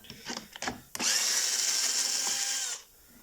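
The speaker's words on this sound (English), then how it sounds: "you want to take your Torx wrench and unscrew the cylinder from the" A power tool whirs steadily for about two seconds during a top-end rebuild of a STIHL MS 180 chainsaw, undoing the cylinder fasteners, preceded by a few short clicks and knocks; close and fairly loud.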